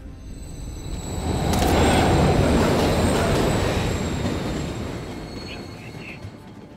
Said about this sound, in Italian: Arriva un treno.